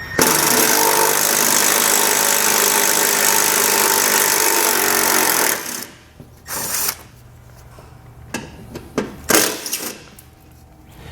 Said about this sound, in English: So we'll take that T30 Torx bit and pull all 3 of those out.